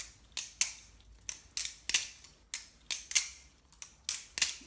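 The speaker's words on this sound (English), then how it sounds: "This Basilisk is probably the most quiet knife I own." Jerry Hom Basilisk R balisong knife flipped close by, a series of sharp, crisp clicks and clacks in quick irregular bursts, roughly a dozen snaps with brief pauses between, no talking.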